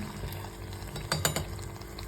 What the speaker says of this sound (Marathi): पुऱ्या कशा फुलत आहेत त्या छानपैकी आता मस्त होणार आहेत